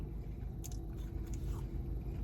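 A Wendy's chicken nugget is bitten and chewed close to the mic, giving a few sharp crunches followed by soft, moist chewing, with no talking.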